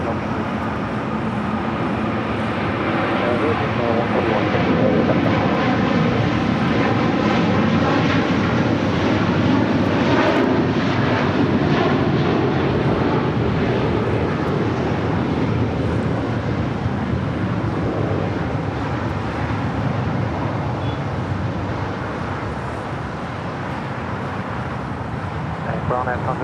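The jet engines of a Qatar Airways Airbus A350-1000 at LAX, bound for Doha, give a loud sustained roar with a whine that stays strong for nearly half a minute, with radio chatter and talk over it.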